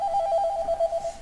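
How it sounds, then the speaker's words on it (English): A telephone rings with a steady, continuous electronic trill held for over a second, loud and close with no voices over it. "The phone's ringing again."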